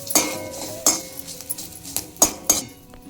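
Two teaspoons of cumin seeds dry-roasting in a metal pan while a spoon stirs them, giving a few sharp, close metallic clinks at irregular intervals over faint background rustle, with no talking.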